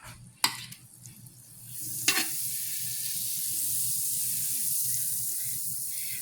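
Butter sizzling in a large, family-size electric skillet. A sharp knock and a scrape come first, then a soft hiss builds into a steady, close frying sizzle that carries on to the end.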